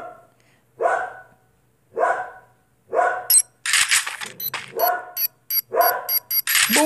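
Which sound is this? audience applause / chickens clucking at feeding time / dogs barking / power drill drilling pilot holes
dogs barking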